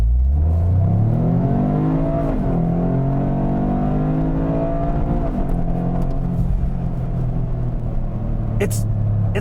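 A 2025 Toyota GR Corolla automatic in sport mode accelerates hard from inside the cabin, its engine note rising in a loud, sustained climb with a brief dip at a gearshift, while someone talks over it.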